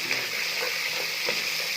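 Steady, bright sizzling of spices, green chilli and tomato tempering in hot ghee and vegetable oil, close up and continuous, with a few small pops and no voices.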